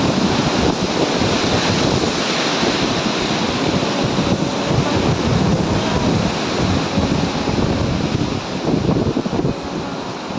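Sea waves at Kotha Koduru beach near Nellore roar in a loud, constant wash of surf, heavily buffeted by wind noise on the microphone.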